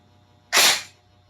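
An upgraded double bell M4 RAS airsoft rifle fires a single 0.20 g BB through a chronograph: one sharp, close, loud crack with a short tail, set against quiet.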